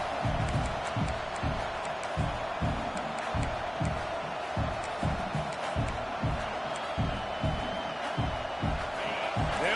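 A stadium crowd in an American football video game roars in a loud, continuous wash, with rhythmic chanting and stomping pulses beating steadily throughout.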